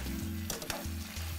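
Shrimp and pasta sizzling in a hot pan for an Asian-style shrimp vegetable spaghettini, a steady close frying hiss with brief clattering bursts as the food is tossed with tongs.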